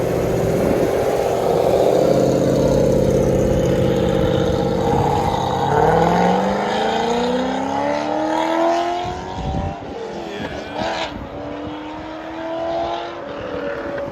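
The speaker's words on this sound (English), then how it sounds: "2008 Chevy Corvette cam, CORSA Extreme system, just built." A cammed 2008 Chevy Corvette with a 6.0L V8, headers and a Corsa Extreme exhaust idles with a loud, lumpy, choppy rumble, then rises in a brief rev and settles back to its uneven idle.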